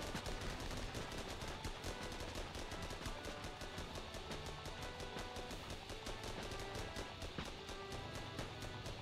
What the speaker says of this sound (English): Can you guys open fire, please?